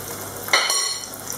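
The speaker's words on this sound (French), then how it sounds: "Il ne faut pas trop remplir la casserole pour que les calamars auront de l'espace pour être bien cuits." Oil sizzles steadily as flour-coated squid fries in a pan, with a brief louder burst of crackling as a piece drops into the hot oil.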